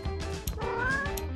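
A toy robot cat gives a couple of quick electronic meows, close and clear with a short break between them, and no talk over it.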